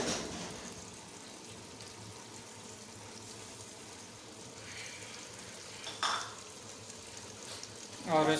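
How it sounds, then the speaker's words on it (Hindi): Garlic and ginger paste going into veal pieces frying in a pot, a steady close sizzle with a few stirring scrapes and a clink near the end; no talking. "लहसुन और अदरक का पेस्ट ये भी अभी डाल देंगे इसके अंदर"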